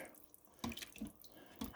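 Water runs from a kitchen tap in a soft, continuous splashing stream, fairly quiet, with small bursts of louder spatter.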